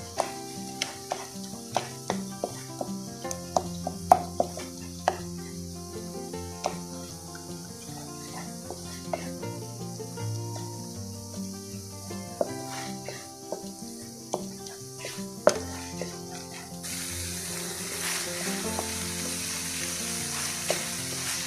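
Carrot halwa being stirred in a pan with khoya, steady close sizzling and frying under frequent short scrapes and knocks of a spoon against the pan, with no talk.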